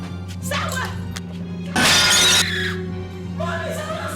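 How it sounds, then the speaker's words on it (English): A car windscreen is smashed, a loud burst of shattering glass lasting about half a second amid a steady low hum, with voices talking before and after. "someone smashed your car"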